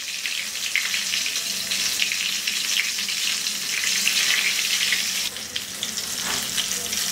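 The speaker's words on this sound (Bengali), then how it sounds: "একটু ঘুরায় ফিরায় ভেজে নিতে হবে যাতে সব দিকটাই হয়, মানে মাঝখান পর্যন্ত সিদ্ধ হয় আর কি।" Eggplant slices fry in a pan with a steady, dense sizzle and crackle that holds throughout at moderate volume and dips only briefly, with no talking.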